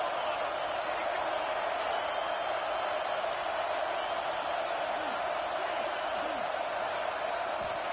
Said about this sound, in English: Crowd trying to make a difference here on 4th down.